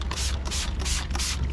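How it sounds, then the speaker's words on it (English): A spray bottle sprays interior fabric shampoo in four quick, evenly spaced hissing squirts, each with a faint click of the trigger, close and fairly loud. "Starting off by spraying"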